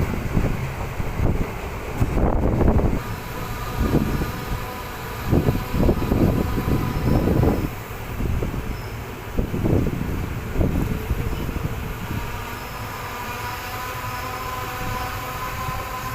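A passenger intercity train running between Gwalior and Guna passes through Mona station without stopping, its wheels clattering in rhythmic bursts over a steady rumble and wind noise, loud and close from onboard.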